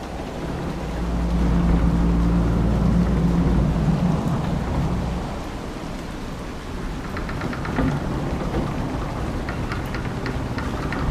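Heavy rain and rumbling thunder from a storm in an Elder Scrolls game, a steady loud wash with a deep low rumble swelling early and easing, then continued downpour with scattered patters and crackles, no voices.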